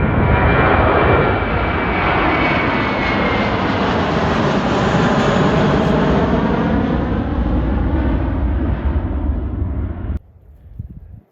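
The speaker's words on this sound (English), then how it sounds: "American Airlines 1467. This is a new flight inbound from Miami." American Airlines Boeing 737-800 airliner inbound from Miami, a loud, steady jet engine roar sustained for about ten seconds before abruptly dropping away to quieter rumble.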